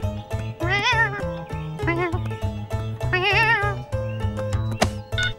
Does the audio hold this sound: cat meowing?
yes